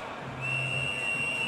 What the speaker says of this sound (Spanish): Suena el silbato, eso significa despeje en el ring